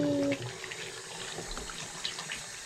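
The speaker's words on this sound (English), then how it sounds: "You gonna be the first one to wash your hands in it?" Tap water runs into a concrete sink during hand washing, a steady close splash and trickle throughout, with a brief voice near the start.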